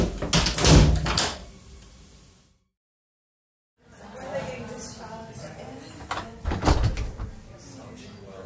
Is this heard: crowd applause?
no